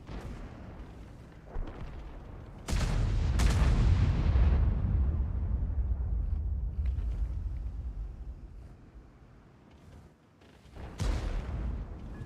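Tank cannon fire in a World of Tanks-style battle, a loud booming shot with a long rolling rumble, followed later by another sharp report against steady game ambience.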